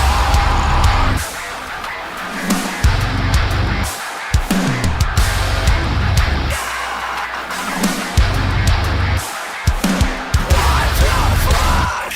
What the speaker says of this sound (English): I'm going to layer that on top of every snare in the breakdown